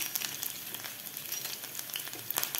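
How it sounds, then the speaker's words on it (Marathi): Chopped garlic cloves frying in hot ghee, a steady close crackling sizzle with sharp spitting pops throughout, no voices. "लसूण आपल्याला व्यवस्थित थोडासा गोल्डन कलर करून घ्यायचा आहे"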